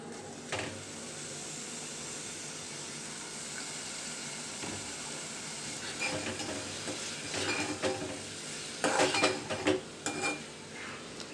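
Tomatoes frying in a pan for a fenugreek tomato egg curry, a steady sizzle under the stirring, with a few spoon scrapes and clinks that grow busier toward the end.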